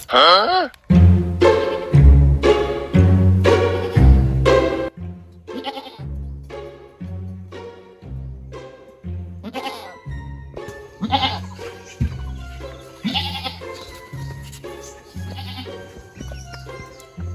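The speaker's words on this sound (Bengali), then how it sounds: "ছাগলটা যে কি হইলো, সারাদিন চিল্লেই যাচ্ছে।" A goat bleats over and over, loud, close and wavering cries in quick succession at first, then shorter, quieter calls continuing over a steady rhythmic background.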